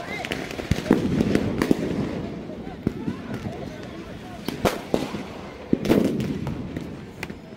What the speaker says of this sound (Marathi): इकडूनच ते फटाके फोडले जातात, जे आपण आता स्काय शॉट्स बघतो ते